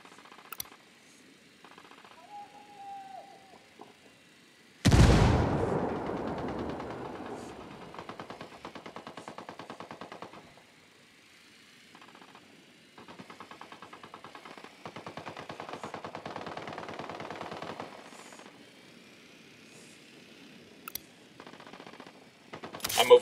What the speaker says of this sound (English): Unidad and rebels exchanging fire.